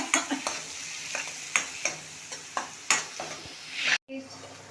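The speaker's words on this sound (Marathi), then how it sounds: "चांगलं परतून घेते।" Food being stirred and sautéed in a pan with chilli and asafoetida, a bright continuous sizzle punctuated by regular scraping strokes of a spatula against the pan, close and loud.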